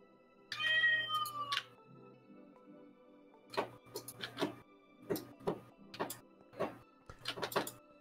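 A cat in a Minecraft game gives an opening meow followed by a series of short, repeated mewing calls spaced irregularly over a quiet background with faint clicking.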